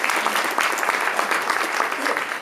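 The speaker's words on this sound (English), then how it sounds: "let's all give a round of applause to Alan Gary" A college ceremony audience applauds an honoree, a full, continuous round of many hands clapping at a loud, even level with no one speaking over it.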